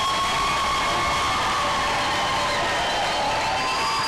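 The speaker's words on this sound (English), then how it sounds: "give a resounding applause for yourselves" Graduates at a May 2023 graduation ceremony applaud themselves, a steady, dense wash of clapping from a large crowd that holds evenly throughout, with no voices standing out.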